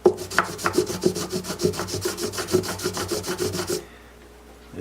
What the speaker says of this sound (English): This here is not sanding very fast.